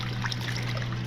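Water trickling and splashing steadily while motorcycle riding gear and clothes are washed by hand in dirty water, a short continuous wash with no talking.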